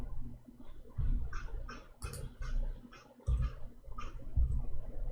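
Computer keyboard keys are typed in short irregular bursts of soft clicks, fairly close, over a low background hum.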